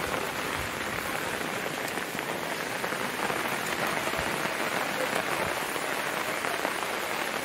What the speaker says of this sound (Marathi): पाऊस जरा भरपूर आहे